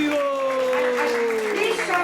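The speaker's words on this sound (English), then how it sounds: "Let's give a big round of applause to Satyavrat Prabhu." An audience at a Sunday temple festival claps, a soft wash of applause running under a voice talking over it throughout.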